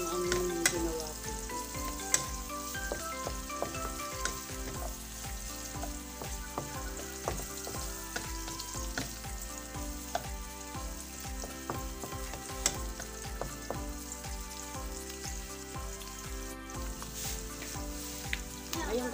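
Onion and chili sizzle and crackle in a pan for a braised coconut-milk fish dish, a steady close frying hiss with occasional sharp pops and stirring scrapes, no talking.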